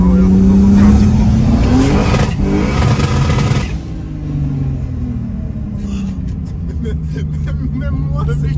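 A 700 hp turbocharged BMW E30 engine revs hard and loud up close, its roar sweeping up and down in pitch before easing into a lower, steady drone with some voices underneath.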